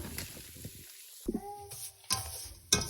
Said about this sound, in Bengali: এখন ভালোভাবে তেলে নিব এক প্যাকেট সেমাই।